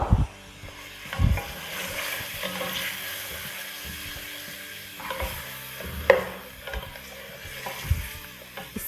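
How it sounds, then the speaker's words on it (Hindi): Mutton sizzles in a pan with garlic paste for a shalgam gosht dish, a close, soft frying hiss broken by a few sharp stirring clacks and scrapes, with no talking. "इसके साथ हम गोश्त को फ्राई कर लेंगे"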